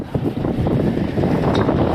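Strong wind roars across a ploughed farm field, blasting the microphone in a loud, unbroken rush with brief gusty surges and no talking.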